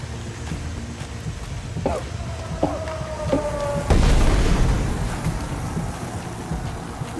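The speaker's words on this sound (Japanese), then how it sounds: "危ね爆発する。" Explosion in a World War video game, a deep booming blast erupting midway over a steady rumbling wind-like ambience, with sharp tonal sound effects just before it and the roar slowly fading afterward.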